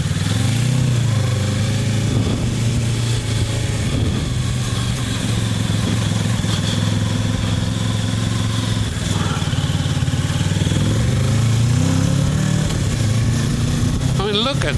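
Kawasaki Versys 650 motorcycle engine pushed hard while riding, a loud continuous drone rising and falling with throttle amid strong wind rush, with a rider talking over it.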